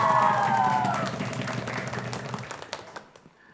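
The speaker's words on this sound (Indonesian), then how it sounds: "Dan tepuk tangan yang meriah untuk regu C." A studio audience at a televised school quiz competition claps for a team in a burst of applause that starts loud and fades out over a few seconds.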